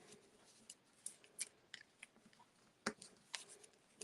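Scissors snip paper while trimming a craft embellishment, giving a handful of short, crisp, close cuts at an uneven rhythm amid quiet rustling.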